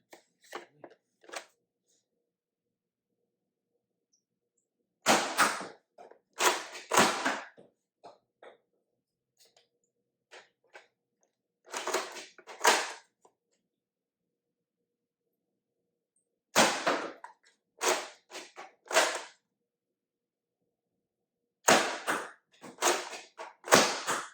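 A Fortnite-themed Nerf blaster slam firing foam darts: clusters of sharp, close clicks and thwacks come in quick bursts of several shots, separated by pauses of silence, with no voices.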